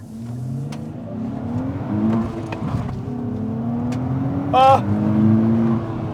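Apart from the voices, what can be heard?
2023 Nissan Z sports car accelerating on gravel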